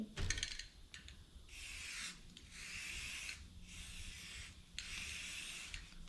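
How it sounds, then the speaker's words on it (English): Spray paint applied in bright orange to a clay bird thrower being restored, coming as three or four sustained hissing bursts of a few seconds each. Short pauses separate them, and no one talks. "So I'm just going to show you a bit of spray painting."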